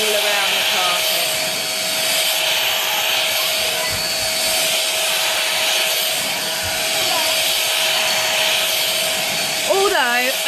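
A Merlin 2 in 1 vacuum cleaner runs on carpet with a loud, steady, close motor drone and a constant whine, briefly joined by a voice near the end.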